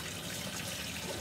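Tap water runs steadily into a sink while a mug is washed with soap, making a continuous close, even hiss of flowing water with no breaks.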